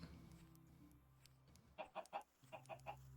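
Chickens cluck in a group in the video game Minecraft, a run of short, clipped clucks in two quick bursts, close and clear over a quiet background.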